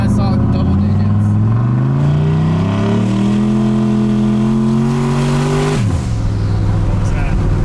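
A turbocharged LS-engined street truck revs hard under boost, a loud, close engine roar that climbs steadily in pitch for several seconds, then drops sharply as the throttle lifts.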